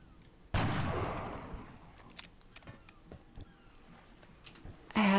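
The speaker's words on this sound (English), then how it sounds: "let's see what a headshot does" A sniper rifle headshot gunshot in the XCOM strategy game: one sharp, loud blast with a long decaying tail, followed by scattered faint clicks and rattles and a second burst near the end.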